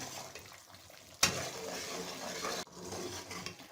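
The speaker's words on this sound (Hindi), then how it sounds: "तो बराबर चम्मच हिलाते रहना है ताकि ये साथ ना लग जाए।" A spoon stirs Mianwali kamakhandi halwa cooking in ghee and sugar in a pan: a steady soft sizzle with scraping strokes and a sudden louder scrape midway, close and alone.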